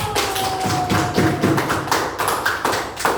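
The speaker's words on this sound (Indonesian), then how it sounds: "mari tepuk tangan dulu" Classroom group clapping hands together, a brisk run of sharp close taps and claps in quick succession, with a faint tone briefly under them.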